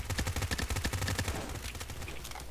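Rapid automatic gunfire from a weapon in Fortnite rattles off in a dense burst of closely spaced shots, loud and near, then thins into scattered reports and a noisy tail, with no speech.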